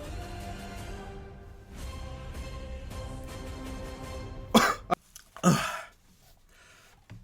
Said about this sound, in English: my cough flared up right there at the end